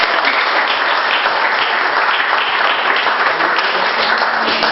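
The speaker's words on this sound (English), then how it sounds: "So please give yourselves a round of applause" Dense, steady applause from a crowd of volunteers at an appreciation luncheon, loud and sustained throughout with no speech over it.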